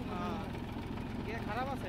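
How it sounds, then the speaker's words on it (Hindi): A Massey Ferguson 245 DI tractor engine runs steadily while the tractor moves back and forth, a low idling throb beneath someone talking throughout. "ट्रैक्टर जो है हमारा आगे पीछे जा रहा है"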